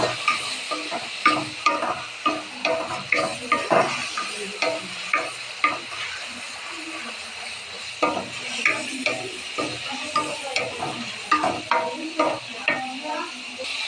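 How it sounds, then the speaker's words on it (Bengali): Dried churi shutki fish fries with spices in a pan, a steady sizzle under repeated rhythmic scraping and stirring strokes, close by, with no talking for most of the stretch. "এই যে সুটকিটাকে অনেক সুন্দর করে কষিয়ে নেব"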